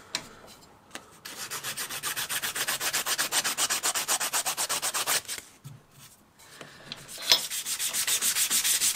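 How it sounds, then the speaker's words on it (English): Sharp wooden edges are rounded off by hand with 280 grit sandpaper in rapid, regular back-and-forth rasping strokes, close and clear, broken by two short pauses before the rhythm resumes. "I just carefully round those sharp edges off with the 280"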